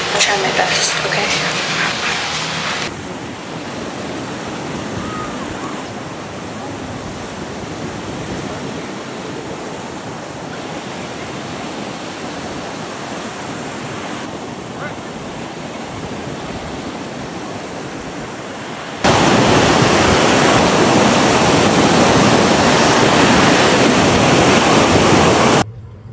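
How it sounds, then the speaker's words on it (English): Ocean surf washes onto a Florida beach in a continuous broadband roar, with buffeting wind on the microphone and a louder, closer burst of breaking waves near the end. "I'll try to record at the beach"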